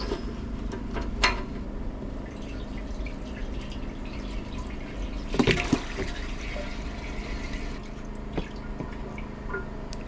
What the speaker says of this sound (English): Let's add some coolant.